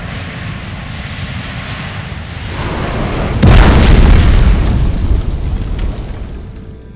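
A Germanwings passenger jet slams into a mountainside in the French Alps: a steady roaring rumble swells, then a loud, sudden boom breaks in at mid-point, followed by a long, heavy rushing roar that slowly fades.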